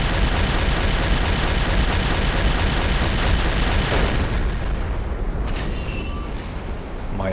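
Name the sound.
deck gun shells firing and exploding, Silent Hunter 3 video game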